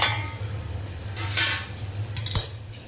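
Metal lid lifted off a pan of potato curry, a few light metallic clinks and scrapes over a low steady stove hum, close and fairly quiet, without talking.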